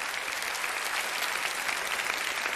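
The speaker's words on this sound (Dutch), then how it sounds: "En die gaan we nu onder een luid applaus verwelkomen." An audience at a televised playback singing show gives steady, dense applause, a continuous wash of clapping that stays level throughout.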